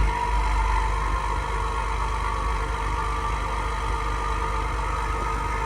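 A Stage 2 Acura TLX Type S with catless downpipes idles in sport mode, giving a steady, deep, droning engine hum with a constant low rumble and persistent tonal whine, close and even with no revving.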